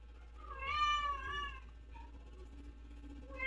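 A cat lets out one drawn-out meow, quiet and close, just before a meal of shredded chicken, followed by soft rustling and a faint start of another cry at the end.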